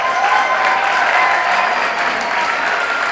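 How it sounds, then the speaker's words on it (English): Steady, dense applause from a school spring concert audience fills the room, an even wash of clapping with no pauses. "Let's give them another round of applause."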